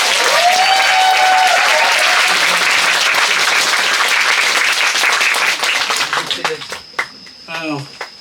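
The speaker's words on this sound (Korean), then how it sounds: "너무나 크고 위대한 일을 하신 문재인 대통령님께 박수 한번 주세요." An indoor audience at a book talk gives dense, sustained applause that fades into scattered claps at the end, with brief voices near the close.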